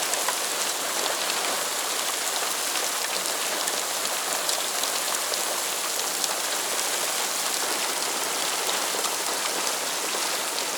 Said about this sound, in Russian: Вот это град.